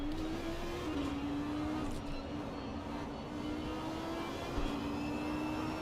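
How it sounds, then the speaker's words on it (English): GT3 race cars accelerating out of the pit lane at Misano in a sim racing game, a steady droning engine note rising slightly, heard faintly under broadband rumble without talk. "Really, really long pit lane for what is not a very expanded pit box, and they're allowed to hit the throttle now"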